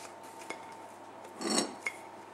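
A knife scrapes margarine-style spread onto homemade scones: a short, close rasp of metal dragging across the surface, set between a few light cutlery clinks in a quiet room.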